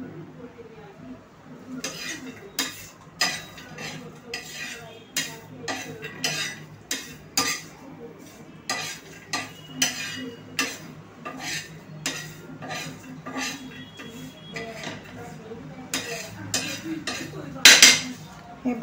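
Garlic and curry leaves roast in a pan over medium flame for a peanut chutney while a spoon stirs them, making repeated close scraping and metallic clinks against the pan over a faint sizzle, with a louder clatter near the end.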